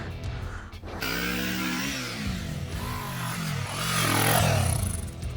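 A Kawasaki KLE 500 custom motorcycle idles and pulls through a slow turnaround, its engine note rising and falling in a steady nearby drone with a louder swell toward the end.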